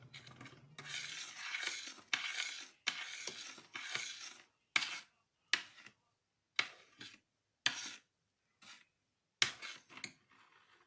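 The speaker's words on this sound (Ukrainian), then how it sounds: "додаємо мед і знову помішуємо" Spoon stirring honey into honey cake batter in a bowl, a series of brisk scraping strokes, continuous at first then breaking into short separate swishes with pauses, close and clear.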